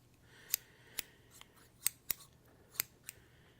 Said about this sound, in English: These are the Ice Temper scissors.